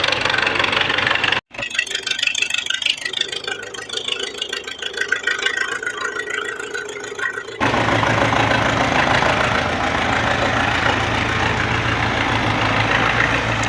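A tractor engine idles with a steady low knocking rumble, close and loud, briefly cutting out before settling back into a continuous drone.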